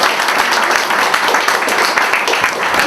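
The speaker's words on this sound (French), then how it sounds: "Je crois que ça mérite une bonne main d'applaudissement." Loud, continuous applause from an audience gathered at a press conference on a youth educational success project, dense clapping throughout with no speech.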